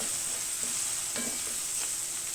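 Garlic frying in oil for a tomato pickle gives a steady, close sizzle, with occasional light scrapes as it is stirred in the pan.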